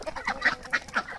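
Several short bird calls, squawks and quacks from chickens and ducks, close by, coming in quick uneven bursts with no talking.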